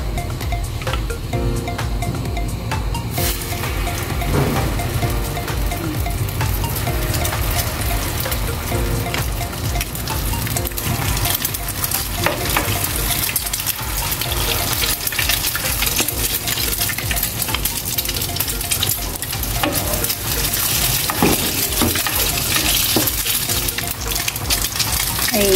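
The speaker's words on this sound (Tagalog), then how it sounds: "Tara na, magpiprito tayo." A tuna omelette fries in hot oil with garlic and onion, giving a steady crackling sizzle that continues throughout with little change in loudness.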